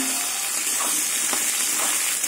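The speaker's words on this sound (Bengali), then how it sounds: "এবার আলু আর পেঁয়াজ ভেজে নেব।" Potatoes and onions frying in a pan of hot oil with bay leaf, whole cumin and dried chilli, a steady close sizzle with soft crackles and occasional stirring scrapes.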